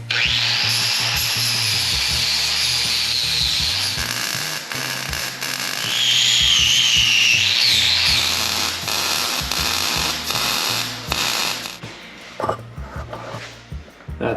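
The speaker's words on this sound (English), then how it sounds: "I'm gonna grind this all down and start again" Angle grinder working over welds on metal, a continuous loud whining grind that rises into a shrill scream midway, close and sustained, then trails off into clatter near the end.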